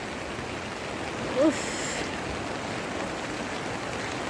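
Rain falls steadily through a wet day on a hillside walk, a dense even hiss throughout, with a short exclamation from a person partway through.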